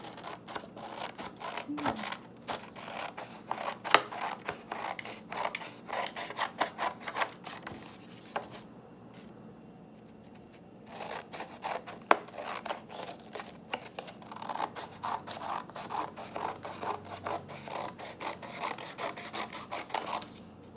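Scissors snip through a printed paper map for an art project, a steady run of short crisp cuts and paper rustles up close, pausing briefly midway before the snipping resumes.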